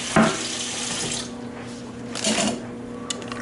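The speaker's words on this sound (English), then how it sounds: "So I'm putting in 2 8-ounce cups of water here." Water poured from a cup into a pot of venison neck soup, two short splashing pours separated by a pause, close and clear in a quiet kitchen.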